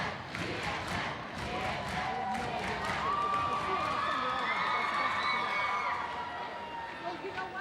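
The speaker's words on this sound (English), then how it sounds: "Crowd was chanting PHN a minute ago," A basketball crowd in a gym during a Port Huron versus Port Huron Northern high school game cheers and shouts steadily, loud and dense throughout, with a commentator's voice partly audible.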